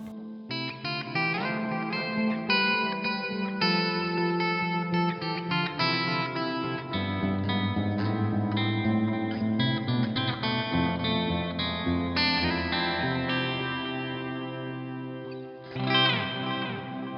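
An electric guitar plays chords and melodic lines with spacious reverb and echoing delay trailing each note, steady and fairly loud, no voices.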